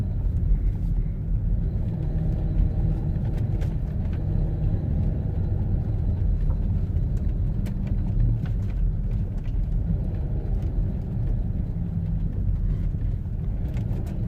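A Volvo XC90 with an anti-skid (ESP) warning fault drives along, its low engine and road rumble steady and close throughout the cabin, with no other sounds standing out.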